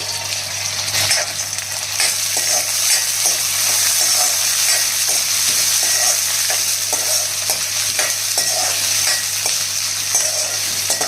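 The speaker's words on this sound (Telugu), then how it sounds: "ఇవి బాగా దోరగా వేగించాలి. ఇవి చక్కగా అన్నీ వేగినాయండి." Chana dal, green peas and cashews fry steadily in hot oil in a pan, a continuous close sizzle with occasional soft stirring scrapes throughout.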